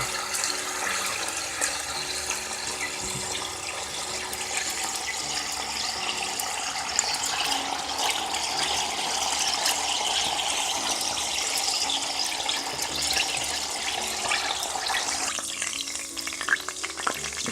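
Salted beef fries in hot oil at the start of a Ghanaian corned beef stew, giving a continuous, close, even sizzle and crackle with no talking.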